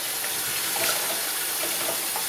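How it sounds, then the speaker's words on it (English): Running water from a tap pours steadily as a soapy cloth is rinsed under it, a continuous close splashing wash with no talking. "Then I rinse out my cloth. Make sure I get all the soap out of it."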